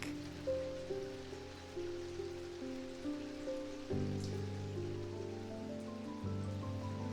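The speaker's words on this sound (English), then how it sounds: "I will return to the gentle sounds of rain." Gentle rain falls steadily, a soft continuous patter on surfaces at low level, with a faint sustained musical tone shifting beneath it and no voices.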